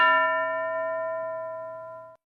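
A single struck school bell gives one clear metallic ding that rings on with a long, slowly fading tone before cutting off, heard alone with no voices.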